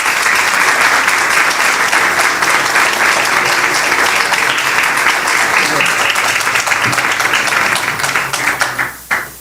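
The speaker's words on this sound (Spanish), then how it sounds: "Pues muy merecido ese aplauso" An audience at an event on environmental education and sustainability applauds after a speech, with dense, loud clapping sustained throughout and tapering off at the end.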